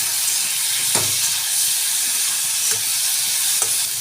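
Fish seasoned with salt and turmeric being stirred in a hot pan, a steady close sizzle and hiss with a few soft scraping strokes of the spoon, no voices.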